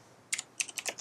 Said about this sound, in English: Sorry for the typing. I got a mechanical keyboard, so it makes more noise